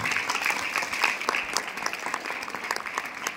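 An audience at a business gathering breaks into sustained applause, dense and steady clapping from many hands that fills the room for a few seconds, with a voice faintly audible beneath.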